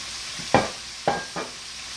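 Taco seasoning sizzles in oil in a pan while a spoon stirs it in three quick scraping strokes over a steady, close frying hiss.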